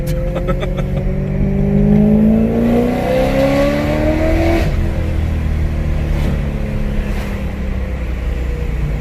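A supercharged BMW E92 M3 engine accelerating hard, loud rising engine tone with supercharger whine climbing through the gears, heard close from inside the car.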